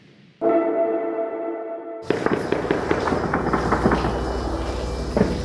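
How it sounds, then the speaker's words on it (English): Rapid bursts of street gunfire during the Taliban takeover of Afghanistan crackle loudly in quick irregular cracks after a sustained whistle-like tone, echoing with no voices. "We can only hear a gunfiring."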